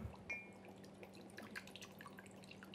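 Rice wine vinegar is poured for a dressing, giving a faint, close trickle of liquid with light drips that runs steadily for a few seconds, with no talk.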